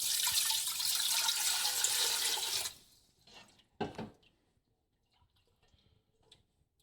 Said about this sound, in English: And I'm going to add our 4 cups of water.